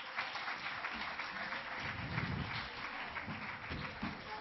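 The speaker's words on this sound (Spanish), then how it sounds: "Un aplauso." An audience at a live children's science talk applauds in a dense, steady wash of clapping that lasts throughout, with no speech over it.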